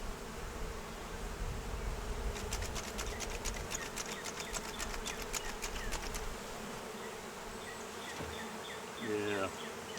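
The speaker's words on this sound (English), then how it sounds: "A lot of new bees in there" Dense, continuous buzzing of many honey bees close by in a hive, steady and droning throughout, with some faint rustling and tapping.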